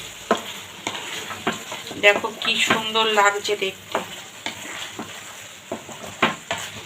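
Masala and capsicum sauté in a pan with a continuous sizzle and frequent scraping stirs, close up, while someone talks over it.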